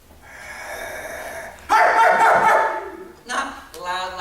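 A man imitates a small dog's annoying bark at a furry variety show, giving a breathy build-up and then a loud, close, voiced yapping burst followed by shorter yips.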